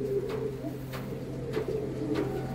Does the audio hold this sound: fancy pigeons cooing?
yes